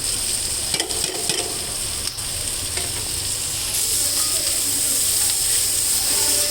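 Broccoli and red, green and yellow capsicum pieces with a pinch of turmeric fry in a pan on low heat, making a loud, continuous sizzle and hiss with a few stirring scrapes early on.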